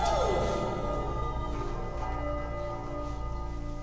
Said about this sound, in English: if I ring this bell